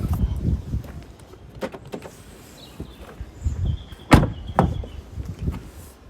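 Rear door of a 2020 Ford Ranger 2.0 EcoBlue Wildtrak pickup being opened, with a sequence of close clicks, handle and latch knocks, a sharp clunk near the middle and further rattles.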